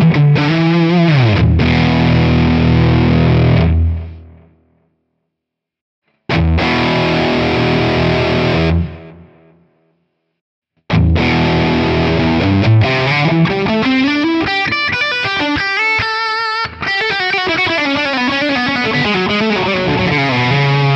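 Distorted electric guitar through a captured Mesa Boogie Mark II amp and 4x12 cabinet, loud chugging chords that stop twice into silence before a longer passage of sustained riffs and bending lead notes.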